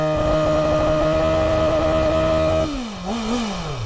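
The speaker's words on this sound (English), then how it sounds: "Go on, Chris, rev up the bike." A BMW M1000RR superbike engine holds a steady, loud rev against a soft limiter at about 4,500 RPM, then the pitch drops and swoops briefly up and down as the throttle blips near the end.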